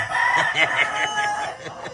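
A rooster crows with a drawn-out, harmonic call over a steady background, with faint clucking from other fowl nearby.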